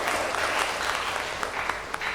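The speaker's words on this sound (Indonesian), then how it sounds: "Aplaus juga untuk kita semua." A classroom of students applauding together, a dense, steady patter of many hands clapping at close range for a couple of seconds with no voices over it.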